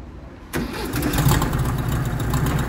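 A Chevette-family car with a 1.6 dual-carburetor engine cranks and catches sharply after a half-second of quiet, then settles into a loud, steady idle close by.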